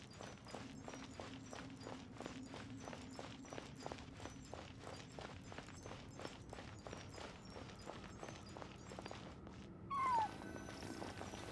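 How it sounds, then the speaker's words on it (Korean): Rhythmic footsteps plod steadily through Genshin Impact game ambience before a cat gives a brief, clear meow near the end, close and alone. "그렇게 난 고양이의 울음소리를 따라 빠져나왔어"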